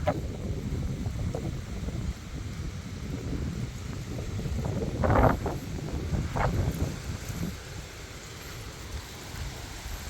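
A very strong windstorm sweeps across a garden plot of onions, garlic and corn, a continuous rushing roar with gusts swelling louder around the middle, rustling foliage and buffeting against the microphone.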